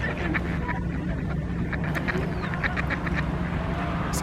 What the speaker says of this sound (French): Ça cancane